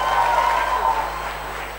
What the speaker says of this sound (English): Amazing performance. Big round of applause.